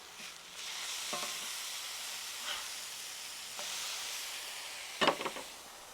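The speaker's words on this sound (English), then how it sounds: "these burgers are looking good. Let's go ahead and give them a flip" Burgers sizzle steadily on a grill as a continuous bright hiss, with a few brief scraping clicks as the patties are flipped and a louder clatter near the end.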